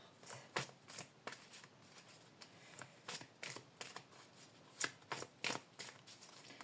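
Tarot cards being shuffled and drawn during an evening reading, crisp riffling bursts and sharp card snaps repeating irregularly, close and fairly quiet with no talking.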